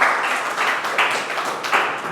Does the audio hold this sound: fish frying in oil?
no